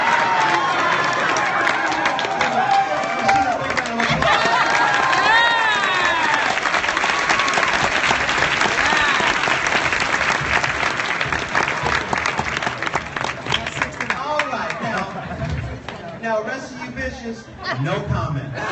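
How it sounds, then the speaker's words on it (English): A large convention audience applauds steadily at a drag event, a dense wash of clapping with some cheers and laughter, while voices talk over it and the applause tapers near the end. "Rashida, big round of applause."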